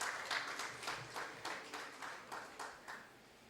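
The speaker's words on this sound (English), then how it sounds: "Can we give him a round of applause as he makes his way to the front?" An audience claps steadily in applause at an annual conference as a sponsor's representative from Sanlam walks to the front, with rhythmic clapping pulses under moderate crowd noise and no talking.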